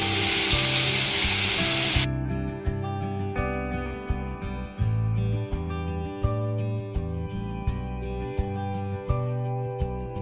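Ground green paste for fish biryani hits a hot pan with a loud, dense sizzle that then settles into steady frying, broken by regular scraping taps of stirring, close up with no voices.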